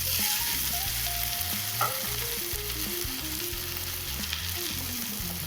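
Party snacks sautéing in a pan, a continuous close sizzle and fry with faint stirring scrapes throughout, no talking.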